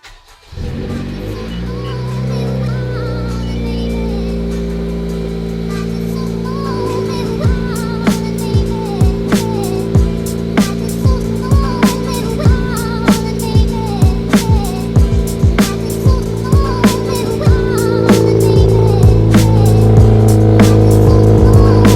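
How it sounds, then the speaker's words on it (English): A 10th-generation Honda Civic Si engine with a fault cranks and catches, then idles with a rumble before a run of sharp revs blips repeatedly, ending in a sustained loud roar. "just hope that the car kind of starts normally"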